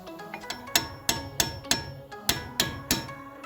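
A hammer strikes a chisel against a metal brake line clip about nine times in an uneven rhythm, each blow a sharp, close, ringing clank.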